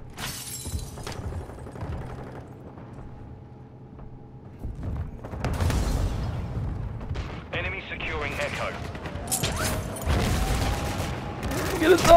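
Call of Duty: Modern Warfare II ground war combat brings loud, dense bursts of gunfire, crashing explosions and debris. Game voice callouts and chatter are mixed in, and the barrage builds toward the end.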